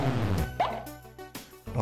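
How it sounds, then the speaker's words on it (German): Short cartoonish plop sounds as crabs are hit in the Giana Sisters 2D platform game, a few quick bubbly pops over game music, close and moderately loud. "Macht das plopp, wenn man die Krabben trifft?"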